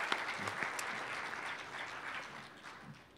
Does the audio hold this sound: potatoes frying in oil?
no